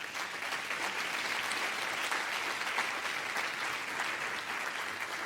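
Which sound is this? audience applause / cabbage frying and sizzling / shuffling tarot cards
audience applause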